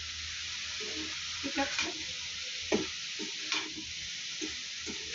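Two kinds of mixed vegetables are stir-fried in a pan, a spatula scraping and tossing them in irregular strokes over a soft, steady sizzle, while a voice briefly says a word.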